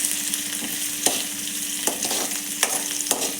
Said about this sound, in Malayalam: ചുവന്നുള്ളി പിന്നെ കറിവേപ്പില ചേർത്ത് കൊടുക്കുകയാണ്